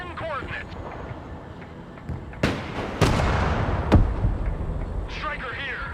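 Mortar rounds fire in the video game Broken Arrow, several sharp booming blasts in quick succession near the middle, set among game radio chatter and background battle noise.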